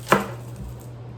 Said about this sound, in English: You're gonna cut your garlic in half.